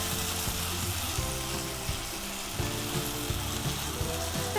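Ginger juliennes and garlic cloves fry in oil in a kadai with a dense, steady sizzle, close and loud, with faint stirring scrapes now and then.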